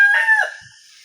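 A rooster crows at dawn, one loud, close call that fades out within a second.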